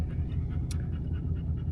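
A dog pants rapidly and steadily after a long, hot desert hike in the Utah backcountry, close to the microphone, with quick rhythmic breaths over a low outdoor rumble.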